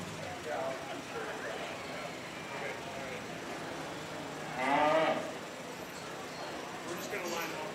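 Cattle moo at a 4-H beef show at a county fair during purebred heifer judging. One moderate moo rises near the middle above a steady crowd murmur, with an announcer talking over the arena.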